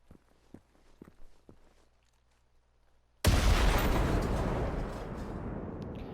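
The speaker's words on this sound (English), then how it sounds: "the explosion from the explosive gas canister looked to me like it was exploding about the same distance as the medium fuel cell" An explosive gas canister blows up in the video game Generation Zero. A sudden loud blast cuts in after a few quiet footsteps and leaves a long, roaring rumble that slowly fades.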